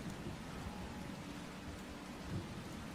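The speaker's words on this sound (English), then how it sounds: "Let me turn down the rain a little bit." A rain sound effect plays during a tabletop role-playing game session, giving a steady, dense wash of rainfall with low thunder-like rumbling and no talking.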